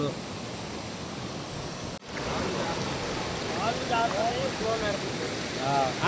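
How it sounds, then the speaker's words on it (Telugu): Loud, continuous rushing of water pouring over rocks fills the clip, steady and close, with a brief break near the start. "వాటర్ ఫ్లో భలే పెట్టేస్తుంది."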